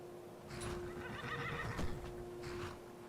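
A horse in a video game whinnies clearly, a drawn-out neigh rising and falling over about two and a half seconds, with faint hoof clip-clops beneath and no talking.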